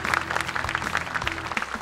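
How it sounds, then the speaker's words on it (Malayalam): Studio audience applause on a family game show, a steady patter of many hands clapping for about two seconds, fairly close and unbroken. "നല്ല ക്ലാപ്പ്."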